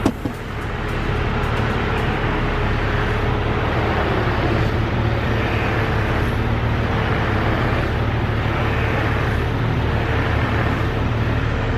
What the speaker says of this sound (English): But this is pretty much the noise that this Jeep is making. Every single time I turn the steering wheel,